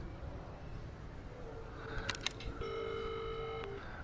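Telephone dialing in the Iron Man VR video game, a quick run of electronic keypad tones followed by a steady held tone over a low, noisy ambient background.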